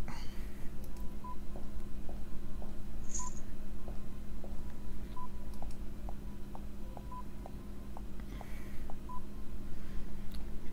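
Keypad tones from the video game Fran Bow as a 4-digit password is entered: a string of short, evenly spaced electronic beeps over a steady low background hum.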